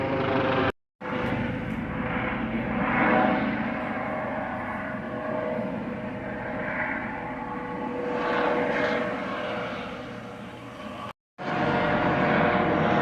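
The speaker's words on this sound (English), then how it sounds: "It wasn't an airplane, it was a helicopter, and he circled the perimeter" A helicopter flies low overhead and circles the perimeter of a home garden, its engine drone steady and fairly loud throughout, with a couple of brief cut-outs.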